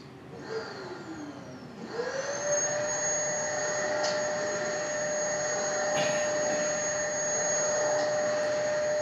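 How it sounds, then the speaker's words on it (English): A vacuum cleaner starts up and runs steadily, its motor whining at a constant high pitch, loud and close, with no voices. "Vacuum cleaner, pretty common occurrence in most people's households."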